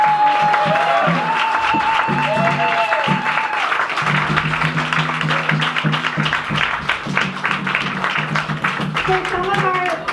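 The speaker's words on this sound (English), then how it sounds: "let's give them a round of applause" Applause from an audience after a Sunday School students' drama at ISKCON Boston, a sustained, even wash of many hands clapping, with voices and background talk running over it throughout.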